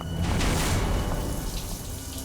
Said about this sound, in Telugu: ట్యాప్ ఎవరు ఓపెన్లో పెట్టారు?